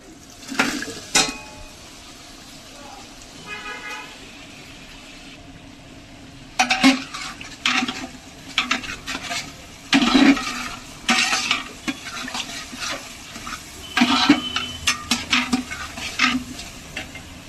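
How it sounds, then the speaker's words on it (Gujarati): Cut potatoes tipped into a pan of already-fried onions sizzle steadily, with repeated close scraping and clinking of a stirring utensil in uneven bursts. "તો હવે ડુંગળી ફ્રાય થઈ ગઈ છે, નાખી દઈશું કાપેલા બટેટા."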